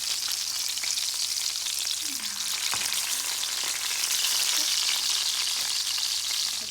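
Salmon frying in a pan, a close, continuous bright sizzle with a couple of faint utensil taps along the way.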